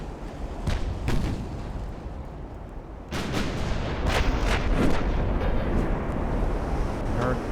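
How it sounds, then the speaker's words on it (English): Warship guns, 6-inch side batteries and 11-inch bow guns, firing in the naval battle game Ultimate Admiral: Dreadnoughts; several booming shots over a constant roar of sea and wind, louder after the midpoint. "What I'm firing with currently are mostly the 6-inch on the sides. And the bow 11-inchers."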